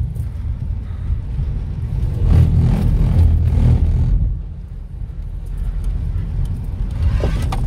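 Car on a skidpan, its engine rumbling steadily and swelling louder mid-way as it revs and slides, with some wind buffeting on the microphone.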